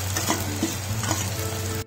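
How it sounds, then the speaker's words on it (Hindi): Tomatoes and green chillies hitting a browned onion tadka for mixed dal give off a steady, loud sizzle with stirring scrapes, with no one talking. "अब इसमें डालेंगे हम टमाटर। ये टमाटर, हरी मिर्ची,"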